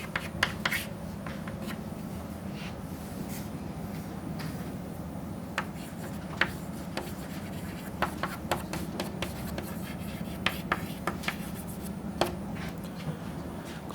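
Chalk or marker writing on a board during a lecture: scattered short taps and scratchy strokes in irregular bursts over a steady room hum, no talking.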